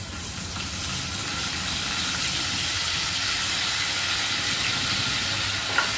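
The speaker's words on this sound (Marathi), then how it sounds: "फोडणी छान तळपू द्यायची" Mustard seeds and curry leaves sizzle steadily in hot oil for a Marathi-style tempering in a paneer tikka masala curry, a dense, close hiss that holds even throughout with a faint pop near the end.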